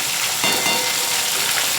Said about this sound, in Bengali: মাছগুলোকে উল্টে দেবো। এইভাবে সব মাছগুলোকে আমি ভেজে নেব।